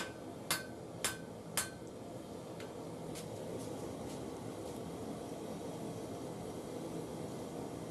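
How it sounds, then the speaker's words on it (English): A hammer strikes a fluxed weld on hot steel while forging a knife, three sharp light ringing blows in quick succession followed by a few fainter taps, all over a steady roar of forge or blower noise. "Take it up to welding heat, bring it out, and forge it. Just light hits to begin with."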